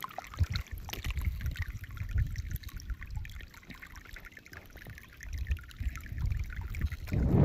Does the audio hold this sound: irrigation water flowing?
yes